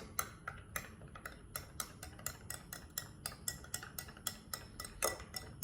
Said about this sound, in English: Mix the barley grass